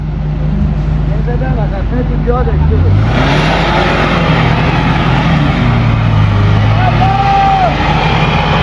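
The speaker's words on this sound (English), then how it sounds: "do you want to reverse back a bit, Parham?" A car engine drones loudly and continuously while reversing on the sand of the Rig-e Jenn desert in Iran, with a tonal whine rising and falling over the rumble and voices talking underneath.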